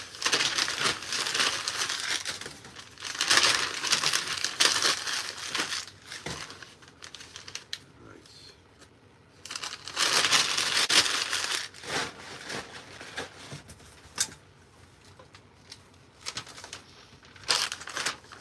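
Packing paper being crumpled by hand to fill a shipping box for vintage goods, heard as close, loud bursts of crinkling and crushing that come in waves with short quieter pauses between them.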